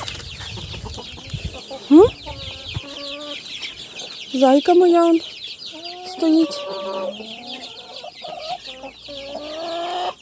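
Hens clucking with a rooster among them in a Ukrainian backyard flock, a series of close, uneven squawks and clucks with a busy bird chorus behind, while a person speaks briefly.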